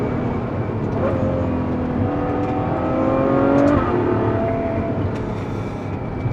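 Ferrari GTC4Lusso V12 engine on the road with tyres warmed, droning steadily and then climbing in pitch as the revs rise through the middle before settling back, heard alone from inside the car.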